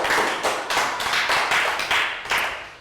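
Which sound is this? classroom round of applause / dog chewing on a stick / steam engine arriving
classroom round of applause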